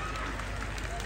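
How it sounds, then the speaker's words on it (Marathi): A crowd claps loudly and steadily for the builders of a stage at an outdoor Home Minister game show in Sangli, with the continuous patter of hands mixed with a voice talking over it. "मळ्यात ज्यांनी स्टेज बांधलाय ना त्यांच्यासाठी एकदा जोरात टाळ्या वाजवा."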